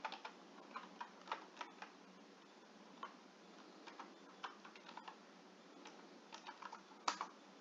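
Command typed on a computer keyboard in a terminal: a steady stream of light, quick key clicks with irregular rhythm and one sharper tap near the end, close and fairly quiet with no talking.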